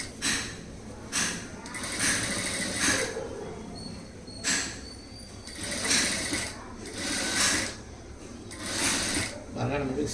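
A sewing machine slowly joins a lined blouse sleeve, running in short repeated bursts with a rhythmic mechanical clatter under a voice speaking throughout.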